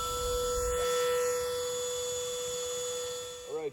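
A vacuum runs steadily during removal of a large bald-faced hornet nest outdoors on a sunny day, giving a loud constant motor whine with a strong hum, shifting slightly in pitch near the end.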